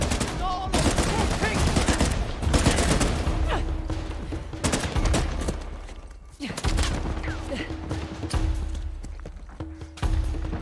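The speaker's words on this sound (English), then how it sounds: "This gun is stupid. It's a semi burst fire." Rapid bursts of gunfire from a semi burst-fire weapon in Uncharted: The Lost Legacy crackle loudly and densely throughout, layered with game action and thuds, with people talking over the shooting.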